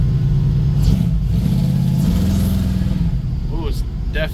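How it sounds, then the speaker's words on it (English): A fuel-injected big block engine in a 1971 Chevrolet C10 pickup truck, a loud, deep, steady rumble that rises as it revs, heard close up with a voice talking over it near the end. "Big block in this little"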